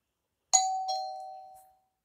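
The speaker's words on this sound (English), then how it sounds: "doorbell," The doorbell notification tone on a ZTE Majesty smartphone gives a single two-note ding-dong chime that rings out and fades over about a second, alone and clear.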